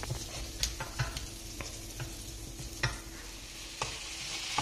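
Mixed fried rice with vegetables, shrimp and chicken fries in a pan, a steady low sizzle broken by repeated sharp scrapes and clinks of stirring, with no talk over it.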